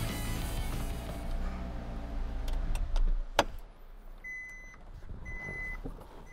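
A Maserati project car idles and runs with a low, steady engine rumble, followed by a few sharp clicks and a short thump. The engine then quiets and faint electronic chimes sound near the end.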